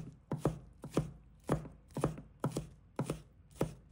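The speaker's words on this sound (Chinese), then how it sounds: "将拍扁的蒜瓣切成末。" A knife minces smashed garlic cloves on a board in close, crisp chops. Each stroke lands as a quick double tap, repeating in a regular rhythm about twice a second.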